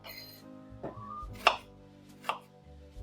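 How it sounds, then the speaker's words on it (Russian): A knife chops an onion into half-moons for French onion soup, a few separate cuts landing near and clear over a low steady background hum. "а я порежу лук"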